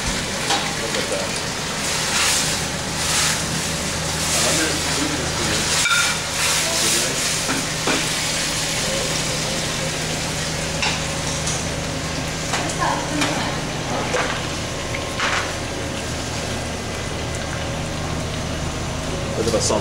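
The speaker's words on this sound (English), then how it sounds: "let it simmer a little bit so the flavor comes out" Pineapple teriyaki sauce simmering in a pan gives a steady, close bubbling sizzle with a soft hiss, broken by occasional clinks of a utensil, while people talk intermittently.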